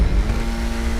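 Schafter V12 sedan engine droning steadily in a snowy GTA race, a continuous mid-level hum with a steady tonal note and no distinct rev peaks.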